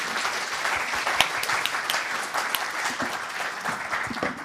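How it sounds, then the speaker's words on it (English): Steady audience applause fills a conference hall for the panelists after a keynote panel discussion, a dense continuous wash of many hands clapping at an even level, with no speech on top. "So a round of applause, please, for everyone."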